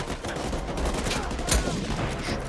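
Gunfire in the video game Uncharted 4, a dense, noisy burst of shots rolling on steadily with one sharper crack near the middle.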